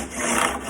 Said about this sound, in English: it will produce a 35-degree angle when I file these frets